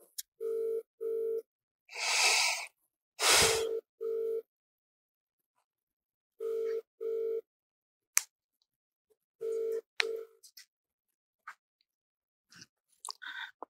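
Telephone ringback tone while a call is placed, repeated pairs of clean beeps separated by silences, with a few louder rustling and clicking noises in between.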